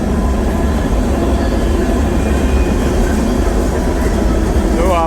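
Freight train rolling across North Dakota, heard from on board as a loud, continuous low rumble and rattling roar with a faint squeal near the end.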